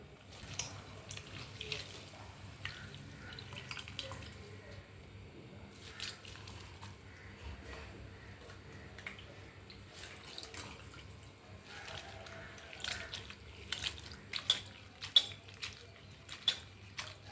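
Chopped banana flower being rinsed and squeezed in a vessel of water for a kootu, with soft sloshing, dripping and squishing throughout and a few sharper splashes toward the end.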